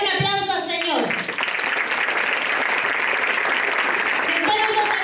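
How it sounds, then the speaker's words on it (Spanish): A church congregation breaks into loud, sustained applause, a dense wash of clapping from many hands filling the room for several seconds, with a voice over it at the start and end. "Denle un aplauso al Señor."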